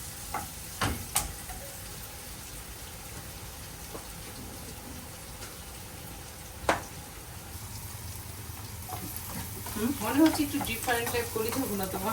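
Beef liver fries in a pan with a low steady sizzle, punctuated by a few sharp knocks of a utensil, with bubbling and stirring growing busier toward the end; no speech.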